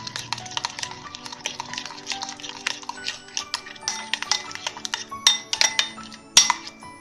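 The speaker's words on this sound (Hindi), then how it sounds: "और दही को हम अच्छे से हिला लेंगे" Spoon stirring a yogurt and kasuri methi marinade in a bowl, a run of light clinks and scrapes against the dish, getting louder and sharper toward the end, with no talking.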